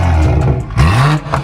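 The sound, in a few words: BMW M240i engine revving with catless downpipe exhaust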